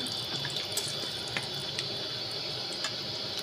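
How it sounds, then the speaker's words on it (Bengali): Whole spices, including cardamom, fry in hot oil for a chicken butter masala curry, giving a steady close sizzle with light scraping clicks as a spatula stirs them. "অ্যাড করে দেওয়ার পরে আমি একটু খুন্তি দিয়ে এটাকে ভেজে নিচ্ছি।"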